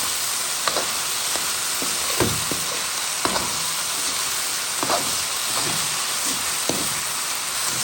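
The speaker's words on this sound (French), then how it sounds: "on regarde la viande il cuit bien, l'huile mijote, tout mijote bien" Pork and vegetables sizzle in hot oil in a pan for a stir-fry, a steady close frying hiss with scattered crackles and spatter pops throughout.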